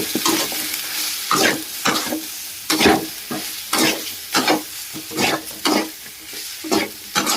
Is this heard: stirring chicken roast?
yes